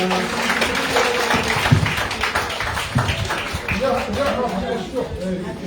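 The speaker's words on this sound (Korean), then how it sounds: "정청래 의원님께 뜨거운 박수 부탁드리겠습니다" A crowd of party members applauds at a political gathering in Jeju, steady clapping sustained throughout with some voices and chatter mixed in.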